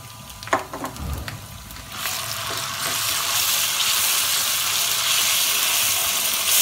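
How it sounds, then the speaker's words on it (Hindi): Masala sizzling hard in a hot pan for shahi daal tarka, a loud steady frying hiss that swells after a couple of sharp clinks and stirring knocks at the start. "बड़ा तेज़ी के साथ हमारा फ्राई हो रहा है।"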